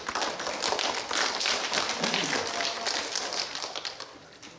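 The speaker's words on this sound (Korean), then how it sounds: "박수로 맞아주시기 바랍니다" Audience clapping to welcome a speaker at a local culture and heritage education session in Bucheon, a loud burst of mixed claps from a modest crowd that peaks early and then slowly tapers off.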